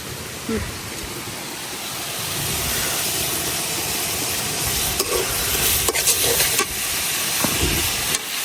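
Pressed dried fish (chapa shutki) is stirred into a hot pan of spiced oil, giving a steady close sizzle and hiss broken by sharp scraping clicks of the spoon against the pan.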